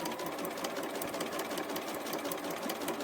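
A sewing machine with a universal needle stitches quilt pieces along a curved template edge, running in a fast, steady mechanical chatter, close and continuous without talk.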